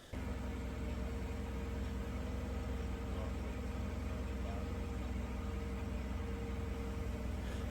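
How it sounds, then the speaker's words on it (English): A forklift engine runs steadily while lifting a heavy engine during a flood-wrecked engine restoration, a continuous low idling drone with a constant hum throughout and no clear changes in load. "That's me running the forklift"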